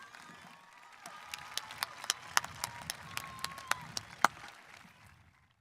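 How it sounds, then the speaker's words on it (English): A graduation audience at a high school ceremony applauds, with scattered sharp individual claps standing out over a soft, sparse patter that builds briefly and then fades to quiet. "Please join me in applause for Joanna Toledano and Roxanne Bernache Nunez."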